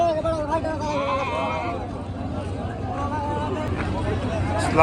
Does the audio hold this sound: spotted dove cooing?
no